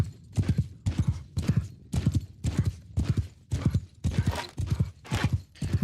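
Horse hooves in the fantasy video game Old Realms, a steady loud galloping clip-clop beating in a regular rhythm across rough, uneven terrain.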